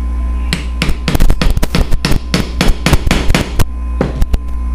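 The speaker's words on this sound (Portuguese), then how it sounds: "Eu vou só posicionar ele aqui e vou bater, porque o encaixe dele é compressão." Sharp, loud hammer taps drive a compression-fit part into a Wahl hair clipper, a close, irregular run of about twenty metallic knocks, some in quick clusters, with brief gaps between them.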